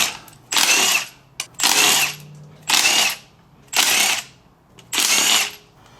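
A power tool spins off the 13 mm bolts holding the pump on a 32RH (904) automatic transmission during a teardown, in five loud, close whirring bursts of about a second each, separated by short pauses.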